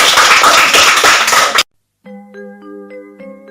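A classroom group claps loudly in a quick, dense burst for about a second and a half, then silence falls and a few clear chime-like tones ring out.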